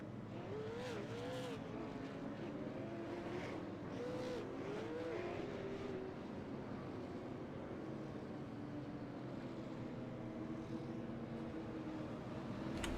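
Street stock race cars roar around a short oval in a steady, loud blend of engines, with rising and falling pitch as cars pass through the first half and a continuous pack drone after.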